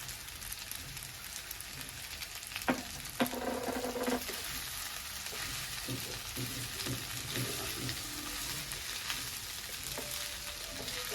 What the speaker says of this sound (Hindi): इसे हम अच्छे से मिक्स कर लेंगे।